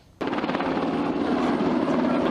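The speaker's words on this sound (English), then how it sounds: "Army's Special Ops Black Hawk helicopter. It hovered over the lake to scoop up nearly 700 gallons of water at a time" An Army Special Operations Black Hawk helicopter hovers over a lake during National Guard wildfire training, its rotor and engine roaring loud, steady and close from an abrupt onset, with no talking.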